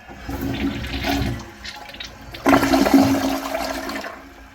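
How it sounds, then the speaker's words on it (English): An American Standard Cadet Pro toilet flushes twice, a brief gurgling rush first and then a louder, longer surge of water that swirls and drains away, close by. "on a longer flush, it is a little bit better, but not by much"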